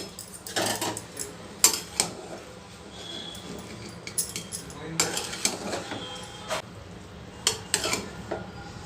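Ghee-dressed carrot pulao being mixed in a pot, heard as a string of sharp metallic clinks and scrapes of a spoon against the vessel, coming in irregular bursts over a quiet kitchen background.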